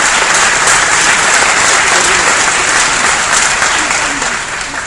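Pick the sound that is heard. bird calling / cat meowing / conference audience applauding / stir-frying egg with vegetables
conference audience applauding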